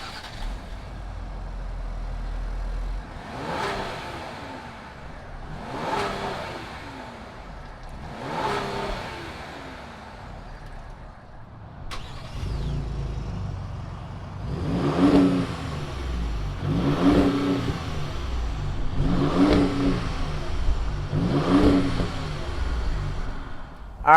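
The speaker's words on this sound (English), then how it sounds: "why don't we fire these two Ford Performance vehicles up and see what they sound like" A 2020 Ford Explorer ST and a Ford Raptor are started and revved, with repeated rising and falling engine blips, a few spaced throttle pulls followed by louder, deeper revs after the second engine fires, up close with no talking.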